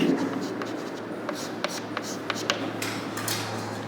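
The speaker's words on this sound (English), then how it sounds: "So I will write in the given data" Pen writing out given data by hand during a solid shaft problem lecture, soft continuous scratching with faint ticks under a low steady hum.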